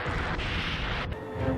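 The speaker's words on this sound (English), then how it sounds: "There's plenty of explosions. And I do mean plenty." Dense, continuous roaring blasts and crashing explosions from a Godzilla monster battle against two monsters and Mechagodzilla, loud and sustained without a break.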